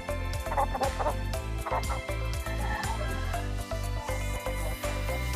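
Shamo gamecocks cluck outdoors in short repeated calls over a continuous low rumbling background.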